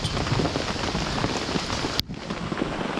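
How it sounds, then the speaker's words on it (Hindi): Heavy hail and rain pound down at a mountain base camp during a trek, a dense, loud, continuous roar of drops and ice striking surfaces, with a brief sharp crackle near the end. "बहुत इस बार बड़े बड़े ओले गिर रहे हैं यहाँ पर चारों तरफ"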